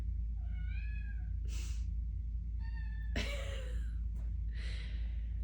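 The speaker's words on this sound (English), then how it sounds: "Kitty is just whining to get in" A house cat meows to be let in, several rising, whining cries spaced across the moment, fairly close against a steady low background hum with no talk.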